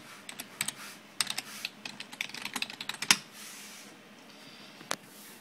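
Fingers typing a password on a computer keyboard, a quick run of light clicking keystrokes in irregular bursts, fairly close, followed by a quieter pause and one last isolated key tap.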